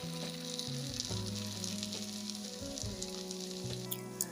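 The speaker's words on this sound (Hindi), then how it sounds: "और दोबारा से इस तरह कलछी को ऑयल में हम रख देंगे" A ladle coated in katori chaat batter fries in hot oil, giving off a steady, close, loud sizzle that bubbles continuously without any speech.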